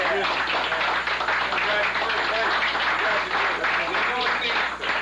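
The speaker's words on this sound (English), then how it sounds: "everybody a big round of applause" An audience at an education forum claps continuously, a dense sustained round of applause filling the room, with voices and cheers mixed underneath.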